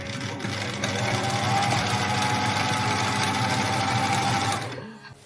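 An old sewing machine runs steadily with a loud, whirring mechanical rattle, then winds down and stops near the end.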